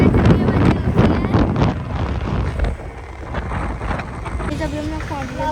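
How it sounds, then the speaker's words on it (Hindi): Cold wind buffets a microphone during a scooter ride, a loud continuous roar and rumble with a voice speaking faintly underneath. "गाइस बहुत ठंडी हवा चल रही है।"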